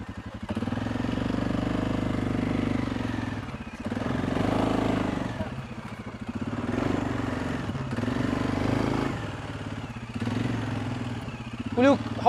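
A quad bike engine runs steadily with a low rumble as it drives across rough farm ground, loud and continuous with varying load, while people talk over it.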